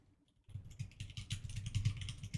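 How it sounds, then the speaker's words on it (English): Rapid typing on a computer keyboard, a steady patter of close key clicks that starts after a brief quiet moment and continues without pause. "Are you typing that"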